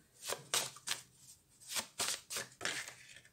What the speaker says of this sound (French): je vais battre un petit peu les cartes. Bien les mélanger.